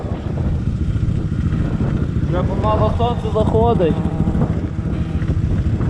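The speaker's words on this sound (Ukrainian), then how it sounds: "вітер дуже сильний дує" Strong wind buffets the microphone in a steady low roar throughout during an enduro motorcycle ride, with a person speaking over it.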